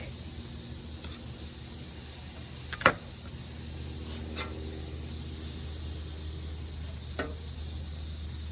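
Onions sizzle on a grill in a steady, soft broadband hiss, with a few brief clinks and scrapes standing out, and nobody talking.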